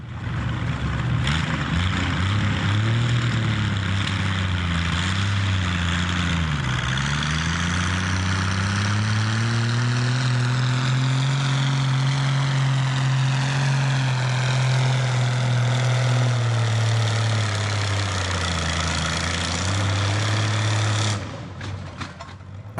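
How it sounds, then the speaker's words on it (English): Hot rod tractors at a Memorial Day tractor show and pull, a loud sustained heavy engine drone rising and falling in pitch as the tractor labours, then cutting off sharply near the end. "let's watch a couple of these hot rod tractors in action"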